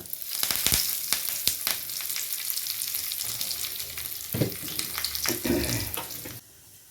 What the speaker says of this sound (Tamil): சட்னி அரைச்சாச்சு இந்த தாளிச்சு கொட்டிக்கலாம்